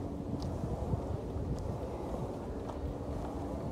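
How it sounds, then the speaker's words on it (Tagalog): Steady outdoor wind rushes and buffets a microphone near the Pililla wind farm, a continuous low roar with no clear gusts or pauses. "Malamig, maganda yung hangin."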